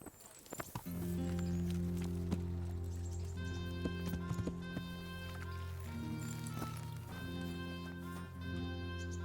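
Horse hooves clip-clopping in the medieval role-playing game Kingdom Come: Deliverance, a steady rhythmic trot under a sustained orchestral music bed, with no voices.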